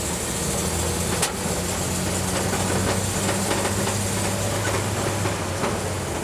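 A 1953 Dodge half-ton pickup drives along in second gear, its engine giving a steady, close, continuous drone with a low rumble and faint rattles throughout, and no talking.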